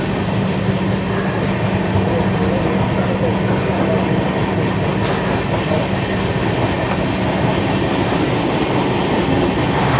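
Steady, loud rumble and rattle of the Kumbha Express running from Howrah towards Haridwar, heard from inside a new LHB coach; continuous clickety-clack wheel noise under a constant roar, with no talk.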